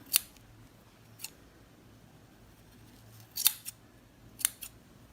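Scissors snipping fringe into old jeans: a few sharp, close, quiet clicks of the blades, one alone, then two quick pairs spaced over a few seconds, with no talk.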